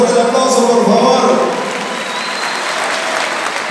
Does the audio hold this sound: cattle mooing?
no